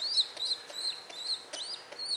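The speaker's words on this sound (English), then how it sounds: "it also sounds like a clucking sound, like a chicken." A rescued baby pigeon makes soft repeated clucking chirps, a quick irregular series of high, chicken-like calls, close and fairly quiet, with no other sounds.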